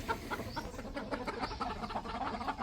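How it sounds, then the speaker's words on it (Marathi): Several chickens cluck busily in quick, overlapping bursts, close by and fairly loud. "कोंबड्याचा आता खायचा टाईम झालेला आहे आणि कोंबड्यांना माहिती आहे की मी आता गहू घेऊन आलेलो आहे"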